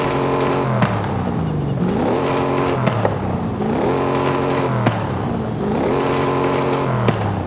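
Repeated engine revs from a powerful, highly limited-edition car in Forza Horizon 5, each one rising sharply in pitch then falling back, loud and close in steady cycles with no talking.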